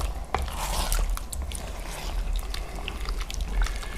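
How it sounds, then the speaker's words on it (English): Stock poured into a pan of flour-thickened chicken curry and stirred in, a continuous liquid bubbling and sloshing with scraping stir sounds, fairly close and steady with no speech. "Start to add our stock, and all we want to do is just cover it so that we can see the juice, and then we start to stir that in"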